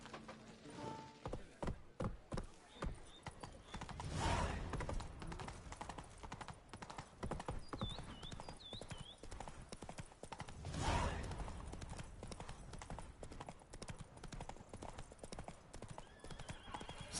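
Horse hooves gallop steadily in The Witcher 3, a continuous rhythmic clip-clop with a couple of brief whinnies rising above, heard alone without talk.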